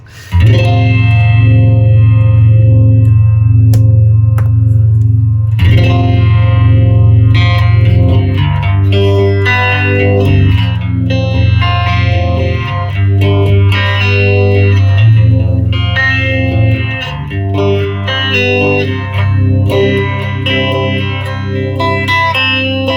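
Heavily effected electric guitar chords through a 1974 MXR Phase 45 phaser pedal, with a sweeping, swirling tone, loud and continuous with no talking.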